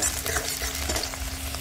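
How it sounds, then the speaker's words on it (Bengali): Onions frying in a pan for a Bengali chicken curry with elephant foot yam, a steady close sizzle with soft stirring scrapes throughout, no voices. "পেঁয়াজটা কিন্তু এখানে ভাজা ভাজা হয়ে গেছে।"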